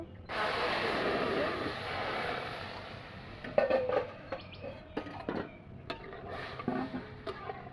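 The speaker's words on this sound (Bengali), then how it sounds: "চালে জল দিয়ে একটু ধুয়ে নেব" Water running into a pot of rice for a rinse, a steady broad rush for the first few seconds, followed by scattered clinks and sloshes of the grains being swirled before pulsar-like taps fade out.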